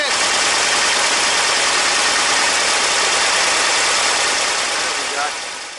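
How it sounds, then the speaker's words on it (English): An engine fitted with dual EMPI 40HPMX carburetors idles steadily and loudly up close, a dense continuous rumble that holds even before easing slightly at the very end. "We got pretty much everything mixing correctly, idling the way I like it."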